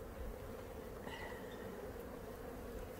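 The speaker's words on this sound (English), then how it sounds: "let's get into these bees" Honey bees drone in a dense, steady buzz at an open hive during a July inspection, a close continuous hum with no talk.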